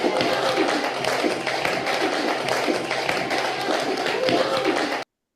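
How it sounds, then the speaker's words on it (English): A group at a performing arts session for adults with learning disabilities claps together in sustained applause, dense and even, before it cuts off abruptly. "give yourself a round of applause"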